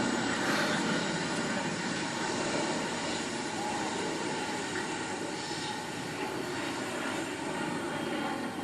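Helicopter turbines running up for a string quartet performance, a dense, loud, continuous roaring whine that holds steady with no breaks and no voices.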